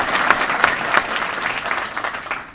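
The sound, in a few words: applause for school board members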